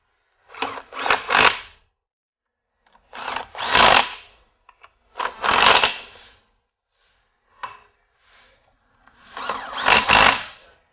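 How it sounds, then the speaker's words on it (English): Hand-installing 15 mm-head bolts into the tail housing of a 700R4 transmission brings four separate bursts of metallic ratcheting and clinking. Short pauses fall between them, and the sounds are close and moderately loud with no talking. "Install the bolts."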